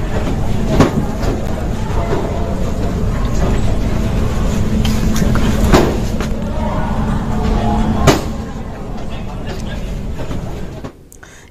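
A Chennai Metro train rolls through an underground tunnel, sending out a loud, steady rumble with sharp periodic clacks, and the noise drops off toward the end.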